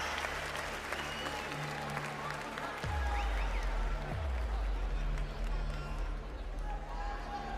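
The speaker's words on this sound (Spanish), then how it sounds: "Fuerte aplauso a ambos exponentes." A crowd applauds steadily throughout a Red Bull Batalla freestyle rap national final in Chile, with clapping and cheering filling the space and some voices mixed in.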